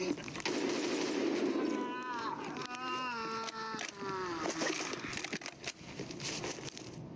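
Rapid automatic gunfire from LPS rounds in a shooter video game, bursts of shots over a loud continuous game soundscape, with a person talking through much of it.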